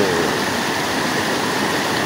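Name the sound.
Curug Tonjong waterfall, Cibentar river flowing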